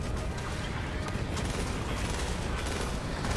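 Burst-fire gunshots in the video game Borderlands 3, a dense, rapid crackle of shots mixed into busy combat noise at moderate level, continuous through the moment with no talking.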